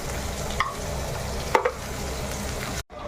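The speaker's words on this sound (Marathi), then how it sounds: "मटन चिल्लीसाठी कांदा फ्राय झाला आहे." Onions frying in a pan for mutton chilli, salted, give off a steady broadband sizzle with a couple of brief stirring clinks, ending in a short cut-out of sound; no one speaks.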